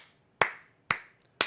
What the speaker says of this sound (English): Long, slow clap for that one